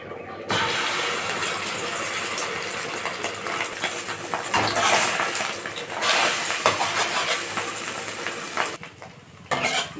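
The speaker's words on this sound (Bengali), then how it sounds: "একটা ডিম আমি ভেজে নিব" An egg fries in oil in a pan, giving a loud, continuous close sizzle with scraping and clinking of a utensil against the pan, which briefly eases near the end.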